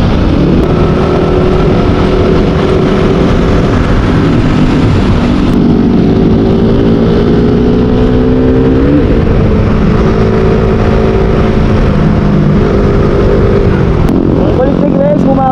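A car drives at night along Marilaque, with a loud, continuous engine drone inside the cabin that rises and falls as the driver works the throttle over the whole stretch.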